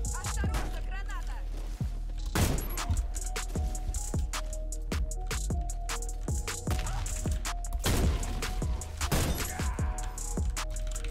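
Gunfire rattles through a round of the video game Warface, with bursts of sharp shots, impacts and clattering effects repeating across the stretch, loud against background game sound, with a voice speaking now and then.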